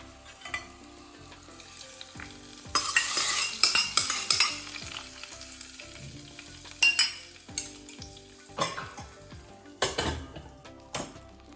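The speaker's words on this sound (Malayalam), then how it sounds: "അതിലേക്ക് കടുക്, കറിവേപ്പില, കുറച്ച് ഒരു 3-4 വെളുത്തുള്ളി ചതച്ചതും കൂടെ ഇട്ട് കൊടുത്തു ഒന്ന് വറവൊഴിച്ച് കൊടുക്കുന്നുണ്ട്" Mustard seeds, curry leaves and crushed garlic tempering in hot oil in a pan, sizzling and crackling loudly with bursts of spattering, punctuated by clinks of a spoon stirring against the pot.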